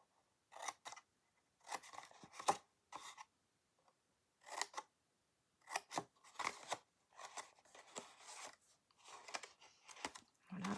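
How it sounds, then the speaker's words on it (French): Small scissors snipping through paper while making a card-stock box, a series of short crisp cuts in close bursts separated by brief pauses, with no talking. "Donc, les petits ciseaux. Donc on va couper là."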